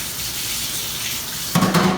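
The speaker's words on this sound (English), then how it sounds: "Put that in the sink. Rinse it off a little bit." Tap water runs into a kitchen sink to rinse a stand-mixer paddle: a steady background hiss, then a brief, louder splashing gush in the last half-second, with no voices.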